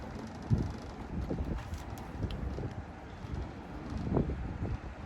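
Steady wind roars and buffets the microphone while out fishing on a boat, a continuous rumble with gusty swells and no talk.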